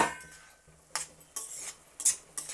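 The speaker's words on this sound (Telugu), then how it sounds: "ఇప్పుడు మూత పెట్టేసి మగ్గిద్దాం" A metal lid goes onto a cooking pot of tender vegetable pieces being simmered for a traditional Konaseema thali. Several sharp, bright clinks and clatters ring out close by at uneven moments, separated by quiet gaps.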